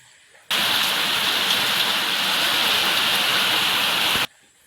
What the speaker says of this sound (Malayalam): രാവിലെ ഡോറ് തുറന്ന് വരുമ്പോൾ മഴേൻ്റെ ഭയങ്കര ഒരു സൗണ്ടാണ് കേൾക്കുക